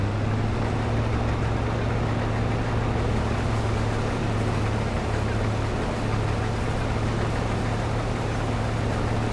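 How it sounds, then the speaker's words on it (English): A brand new John Deere combine harvester running in Farming Simulator 22, a steady loud engine drone with a deep low hum throughout, no talk. "I want to get going on doing some harvesting with a brand new combine."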